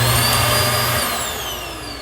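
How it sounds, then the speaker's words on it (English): Built-in road vac vacuum cleaner in a 2022 Forest River No Boundaries NB19.1 travel trailer, a loud motor whine with a low hum that cuts out partway through and then winds down, with no talking. "For this is actually called your road vac."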